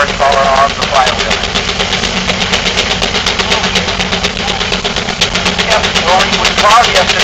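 An Avery steam traction engine, rated around 60 horsepower on the flywheel and used for pulling plows, runs steadily and loudly with a constant rumbling chug and rapid repeated beats throughout, while people talk over it.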